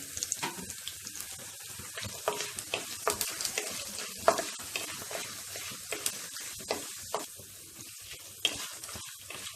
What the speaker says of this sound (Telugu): పచ్చిశనగపప్పు, మినప్పప్పు, ఆవాలు, జీలకర్రను వేసి వేయించుకోవాలి.